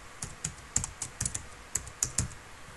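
Keys on a computer keyboard clatter in a quick, uneven burst of about a dozen close, crisp taps, with no voices.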